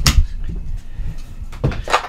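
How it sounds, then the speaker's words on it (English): A stiff door opening on a narrowboat under conversion: a sharp knock and scrape at the start, low creaking and rumbling, then two more bangs and rattles near the end, close by and fairly loud. "You got the door open."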